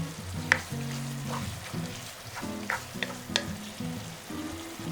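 Chili peppers fry in a pan for a Korean gochu dadaegi seasoning as they are stirred with sesame seeds, making a steady close sizzle broken by repeated scraping and clattering strokes of the stirring, with no voices.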